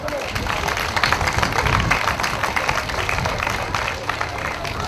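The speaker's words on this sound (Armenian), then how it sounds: "Ես ցանկանում եմ եւս մեկ անգամ ծափարենք մեր Ավետիսյանին," Audience applause at a university event in Armenia, a steady dense wash of clapping that holds at full volume for the whole stretch, with no gaps or pauses in it.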